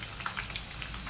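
Pakoras sizzle in hot oil in a home kitchen, a steady soft crackle with scattered small pops, fairly quiet and with no talking.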